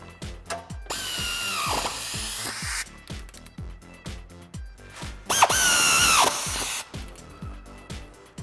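A power tool tightens the shock absorber mounting hardware and nuts on a 1994-2004 Mustang during an Eibach suspension install, giving several loud, close bursts of drilling and ratcheting with short pauses between them.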